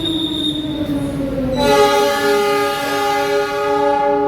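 Argo Semeru passenger train departing Kebumen station in Indonesia: a loud, sustained sound that brightens into layered tones and a steady rolling rumble, up close, with no speech.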